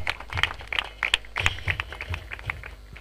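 Audience at a cricket prize ceremony clapping in a light, scattered patter. The applause is moderately close and continues for a few seconds with no one speaking.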